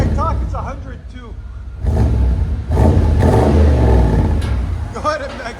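A 1995 Chevy 1500 pickup's 5.7L V8 with a Magnaflow exhaust revs in bursts, rising and roaring loudly, with someone talking over and between the revs.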